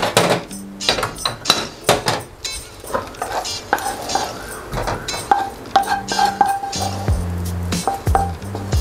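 Utensil scraping and clinking against a pan while sago sukiyaki filling of cooked vegetables is scooped out, a steady run of close metallic scrapes and knocks with no talking.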